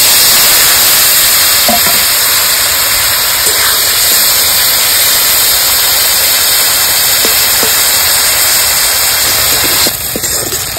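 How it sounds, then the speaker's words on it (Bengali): Shrimp frying in hot oil in a village kitchen, a steady loud sizzle and crackle running unbroken throughout with a few faint clinks, no talking. "তেল গরম হয়ে গেছে, দিয়ে দেবো চিংড়ি মাছ।"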